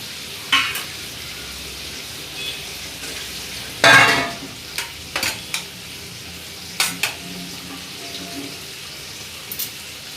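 Prawns dropped into a crab and prawn curry masala and stir-fried, giving a burst of loud sizzling followed by scattered scraping and clattering stirs in a pan.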